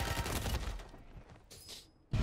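Rapid video-game gunfire from a Warzone loadout weapon, a dense burst of shots for about a second that tapers off, followed by quieter gameplay noise and a sharp sound at the end.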